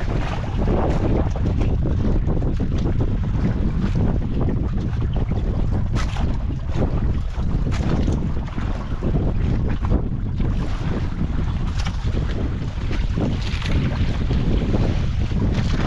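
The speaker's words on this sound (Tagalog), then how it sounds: "Ano isang bangka." A small boat out on open water on a windy day, with steady wind buffeting the microphone and a constant wash of water and engine-like rumble filling the whole stretch, loud and continuous.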